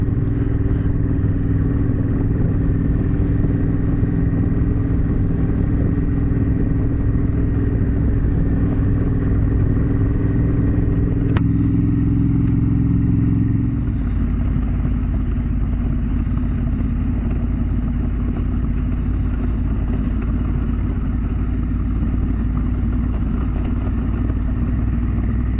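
A motorcycle rides along a high-country trail. Its engine drones steadily and close up for the whole stretch, with a gear or throttle change roughly midway, and no voices.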